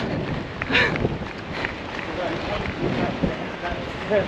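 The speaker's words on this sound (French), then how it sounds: "Bon là les gens on se tape le vent de pleine face." A strong headwind on a runner during the Jersey marathon roars and buffets across the microphone in uneven gusts, with faint voices mixed into the rushing noise.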